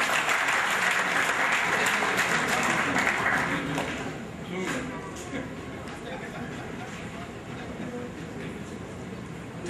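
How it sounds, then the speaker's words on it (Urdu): An audience at an evening event honouring a gold medallist breaks into loud applause that thins after about four seconds into softer scattered clapping with murmured chatter underneath. "بہت ساری تالیاں روبینہ کے لیے."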